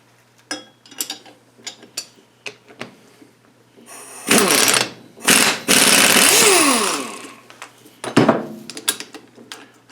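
Power tool backing a bolt out of a Ford F-150 rear differential during a bearing replacement, with rapid rattling impact bursts separated by short pauses and quieter clinks of metal parts, close and loud.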